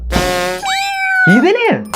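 A cat meows close and loud, a couple of rising-and-falling drawn-out cries in quick succession, strongly pitched and whiny, with a short scratchy onset.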